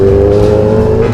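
Kawasaki Z800 motorcycle with modified handlebars, engine running at a steady loud drone with rising harmonics while ridden, close and continuous for the whole moment.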